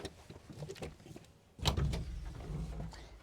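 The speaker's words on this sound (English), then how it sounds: "these doors are a little heavier than the glass door, obviously, as far as putting up and down" The heavy cab door of a 2022 Kubota SVL97-2 rubber track skid steer loader being moved, a clunking mechanical shift followed by a louder rumbling slide and thud, heard up close with no talk.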